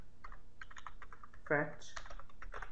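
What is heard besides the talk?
typing on a computer keyboard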